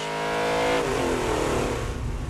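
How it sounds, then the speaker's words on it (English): A Nissan 240 engine on a dyno revving hard at full load, a loud continuous roar whose harmonics sweep upward and then settle into a steady high-rpm drone. "another tune in the inbox gets loaded up, and another dyno run for numbers"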